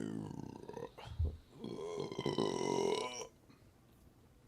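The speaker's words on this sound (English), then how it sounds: "Not me burping." A single long, throaty burp rolls out for about two seconds, close and fairly loud against a quiet background, with no talk over it.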